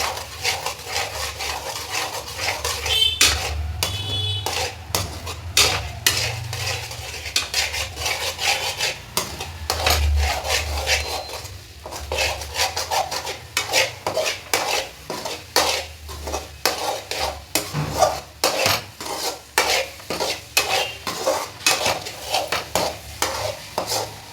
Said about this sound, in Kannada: ಮೊಟ್ಟೆ ಎಲ್ಲ ಉದ್ರಾಗಿ ಬರಬೇಕು, ಅಲ್ಲಿ ತನಕ ನಾವು ಮಿಕ್ಸ್ ಮಾಡಬೇಕು